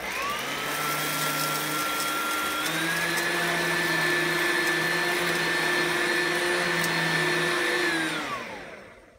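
An Oreck commercial upright vacuum cleaner motor whines steadily and loudly, its pitch rising partway through, then winds down as it shuts off near the end.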